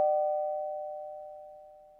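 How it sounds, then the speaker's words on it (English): A single doorbell chime rings out, a clear sustained tone struck once and slowly decaying over two seconds, alone and close. "And no one makes cookies like Grandma, said Ma, as the doorbell rang."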